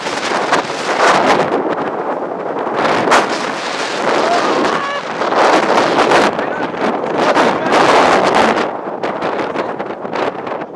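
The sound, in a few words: strong wind on mountain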